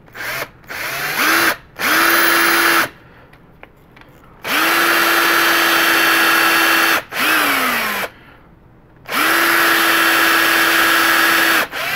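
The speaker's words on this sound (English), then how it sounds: "you'll be drilling into resin and you'll see like liquid ooze out" A power drill bores into a resin model kit part in repeated bursts, whining loud and close with short pauses between runs and the motor pitch sagging briefly as the bit bites.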